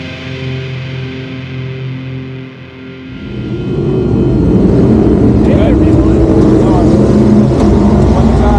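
Limited late model race cars rumble as a heat race gets underway, engine roar swelling after a few seconds from a steady idle hum into a loud, continuous, broadband drone of several cars.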